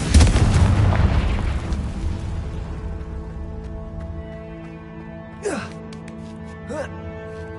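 A Confringo blasting spell explodes in Hogwarts Legacy: a loud, close burst opens and decays into a fading rumble over sustained musical tones. Two short whooshing flourishes follow later.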